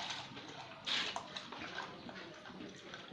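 Water poured from a jerry can into a basin while mixing homemade liquid soap: a soft splashing pour rising sharply near one second, then settling into gentle trickling and gurgling, fairly quiet and close.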